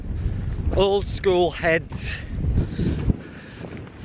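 Wind gusts across an exposed outdoor wild-camping spot by the sea, rumbling steadily into the microphone under a voice.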